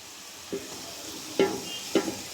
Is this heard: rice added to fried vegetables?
yes